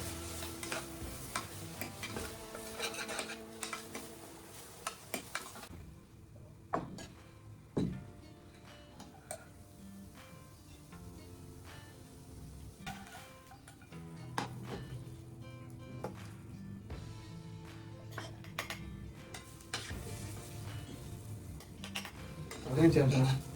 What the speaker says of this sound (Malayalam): എല്ലാം ചേർത്ത് നന്നായി ഇളക്കി കൊടുക്കുക